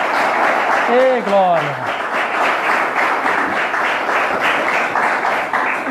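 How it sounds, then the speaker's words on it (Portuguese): Church congregation applauding steadily through the whole stretch, a dense wash of clapping with a voice calling out over it near the start. "Uma salva de palmas para Jesus"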